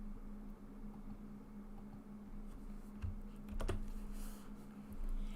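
Soft clicks of a computer keyboard being typed on, faint and sparse, over a steady low background hum.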